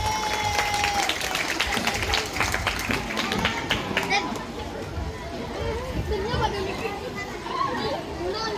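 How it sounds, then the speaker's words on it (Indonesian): A crowd of schoolchildren and guests at a traditional games festival at SDN Tawangsari 3 claps and cheers, a busy mass of applause mixed with children's voices and movement throughout. "Berikan tepuk tangan untuk SDN Tawangsari 3."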